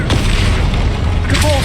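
The Confringo fire spell in Hogwarts Legacy gameplay lands as a loud, booming blast, followed by rumbling and a second burst, with a voice speaking over the combat.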